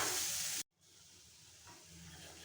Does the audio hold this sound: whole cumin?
yes